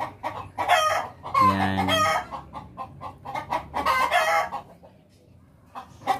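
A hen clucks loudly after laying a clutch of eggs, repeated squawking calls in bursts with brief pauses, close by, with a short spoken word in between.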